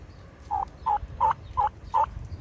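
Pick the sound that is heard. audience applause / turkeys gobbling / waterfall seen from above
turkeys gobbling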